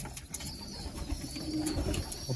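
Young racing pigeons cooing and shuffling inside a loft, soft repeated coos low and close with light fluttering and scratchy movement throughout, no voices.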